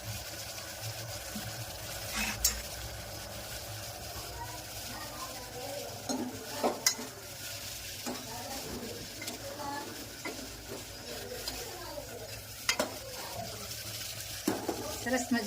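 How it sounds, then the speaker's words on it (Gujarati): Spiced vegetable tempering with coriander-cumin, turmeric and chilli sizzles in hot oil in a pan, with steady frying hiss, scattered spoon scrapes and stirring clinks throughout. "સરસ મજાનો વઘાર થઈ ગયો છે"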